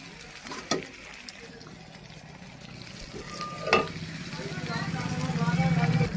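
A turmeric-spiced gravy sizzles steadily in a pan as ginger paste goes in, with a couple of sharp utensil knocks and stirring scrapes, and the frying grows louder toward the end.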